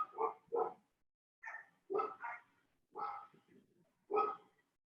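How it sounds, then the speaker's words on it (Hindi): A dog barks in short, separate bursts, about six woofs spread over several seconds with brief gaps, fairly close and clear, with no talk over it. "हाँ, कुत्ता बोल रहा है जी।"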